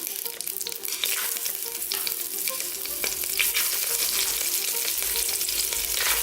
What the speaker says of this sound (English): I'm going to go ahead and start adding my chicken.